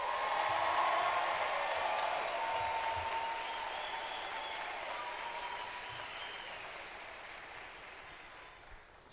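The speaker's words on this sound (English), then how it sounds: "Give them a round of applause." A large crowd at a university commencement ceremony applauds steadily, the dense clapping loudest at the start and gradually thinning out toward the end.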